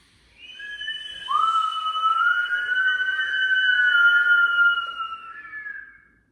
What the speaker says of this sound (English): the inhale and whistling exhale should be similar lengths